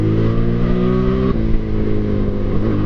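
A Motorstar Explorer 250 v2 motorcycle engine runs and revs nearby, a loud steady drone with a pitch shift midway through, alone without talk.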